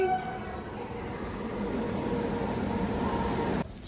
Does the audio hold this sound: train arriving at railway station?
yes